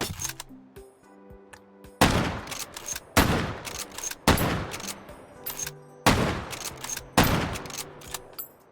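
Mosin Nagant M91/30 rifle shots in the VR game H3VR: six loud, sharp reports at roughly one-second intervals, each with a short decaying tail, over quiet background tones.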